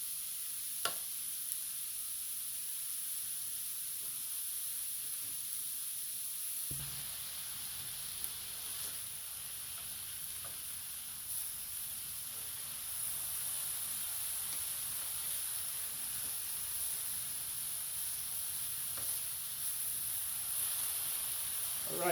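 Seasoned cheesesteak meat sizzles steadily while frying for a Philly cheesesteak, a constant close hiss with occasional soft stirring scrapes and no talking.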